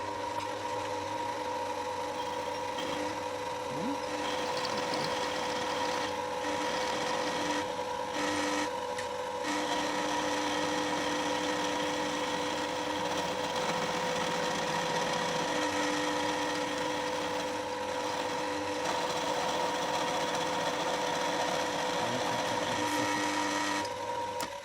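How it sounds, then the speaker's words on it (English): A milling machine drives an end mill through a metal V-block, a continuous grinding, buzzing cut with steady humming tones and brief shifts in the chatter, running alone for a long stretch. "he's doing it with an end mill"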